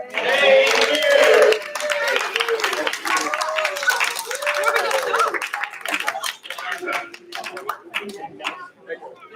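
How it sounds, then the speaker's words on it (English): Audience applause and clapping for choir dancers at a culture festival, a dense crowd clapping that stays loud through the clip with chatter and some laughter mixed in. "another round of applause for our wonderful choir dancers"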